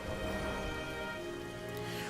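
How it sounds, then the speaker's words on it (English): Steady rain hisses over a quiet in-game area in Sky: Children of the Light, a continuous even wash with faint tonal music lines underneath. "go and turn the rain off over there"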